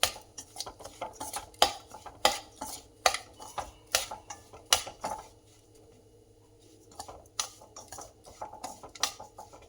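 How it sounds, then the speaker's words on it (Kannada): Semolina (rava) being stirred in a pan for rava idli, a close run of quick metallic scrapes and clinks of a spoon against the pan, with a brief lull near the middle before the stirring resumes. "ಒಂದು ಕಪ್ ರವೆ ತಗೊಂಡಿದ್ದೀನಿ. ಸ್ವಲ್ಪ ಟೂ ಮಿನಿಟ್ಸ್ ಹಾಗೆ ಕೈ ಆಡಿಸೋಣ."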